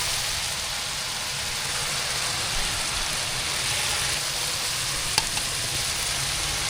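Chopped vegetables sautéing in a pot for vegetable biryani, a steady close hiss and sizzle with faint stirring scrapes, one brief clink near the end, no talking.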